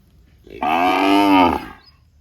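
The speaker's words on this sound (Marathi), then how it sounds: "गाय भरपूर ओरडती आहे, कारण वासरू नाही इथं म्हणून वासरासाठी ओरडती ती" A cow moos loudly for its missing calf, one long, drawn-out call close by, standing alone over quiet surroundings.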